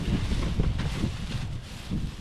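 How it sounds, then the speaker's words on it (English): Gusty wind buffets the microphone on a windy day in a backyard, a loud low rumbling roar that swells and dips throughout with no talk. "It's windy. Yeah, it's windy."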